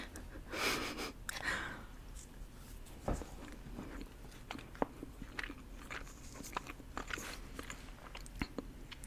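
Close, crunchy chewing of a bready Subway cookie, with soft bites and wet mouth sounds repeating unevenly alongside occasional breaths.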